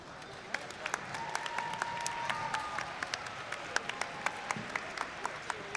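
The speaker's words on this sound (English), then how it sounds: "Please give them a huge round of applause." Audience applause at a robotics competition qualifier in Statesboro, a faint, steady wash of clapping with sharper individual claps standing out and a background tone running through it.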